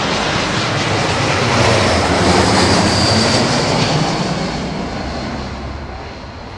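Airbus A380 airliner at London Heathrow Airport, a loud, sustained jet engine roar that swells slightly midway and then eases off gradually, heard alone without voices.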